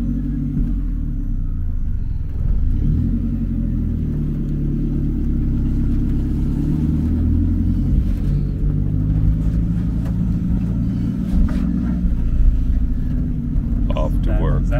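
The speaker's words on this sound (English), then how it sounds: "We're in the back of this little truck that we take to and from the venues from our office" Low engine rumble from inside the open back of a small truck running between venues and an office, with road noise and gear-shifting swells throughout, and voices talking faintly over the drone.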